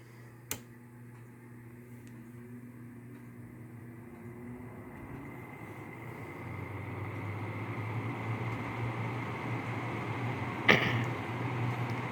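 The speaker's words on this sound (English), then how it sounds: "I guess we'll start it off on low fan for whatever that's worth" An LG window air conditioner runs on its low fan setting, a steady broadband whoosh with a low hum that grows slightly louder over time, plus one brief click near the start and another near the end.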